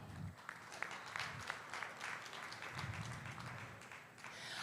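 Spectators at a junior Brown Swiss cattle show at a state fair give a round of applause, a faint, scattered patter of clapping in a large open space with some low murmuring.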